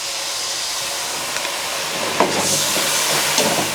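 Water poured into a hot kadhai of spices for a dhaba-style potato and carrot dish, giving a steady broadband hiss and sizzle throughout with a few louder spits and crackles, alone without speech.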